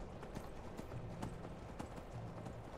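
Horse hooves clip-clop steadily in the snowy Skyrim video game world, a close, continuous rhythmic patter of hoofbeats with faint background ambience and no talking.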